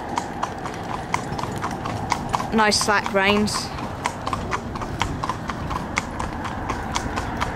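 A pair of Connemara mares driven in harness on town roads, their hooves clip-clopping at a steady trot, close and rhythmic, with a brief neigh midway and someone speaking over the hoofbeats.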